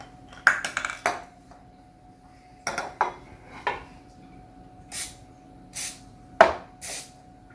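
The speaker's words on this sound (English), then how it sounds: "Now we gotta get the pan ready with some non-stick spray." Short hissing bursts of cooking spray, four or five quick sprays close up, mixed with light clinks of a pan and utensils.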